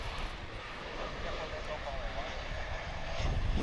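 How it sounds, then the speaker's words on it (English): Boeing 787-9 jetliner at Dallas Fort Worth International Airport, heard as a steady, distant engine roar that swells slightly toward the end, with people talking over it. "That is your 787-900."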